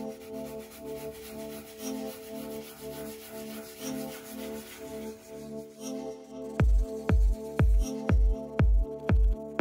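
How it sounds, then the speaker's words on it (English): Leather car seat base scrubbed with Squid Ink Cleanse, starting with a continuous soft rubbing that is joined by a run of sharp, evenly spaced brushing strokes near the end, close and fairly loud. "I'm now going to clean the entire base of the seat again with Squid Ink Cleanse"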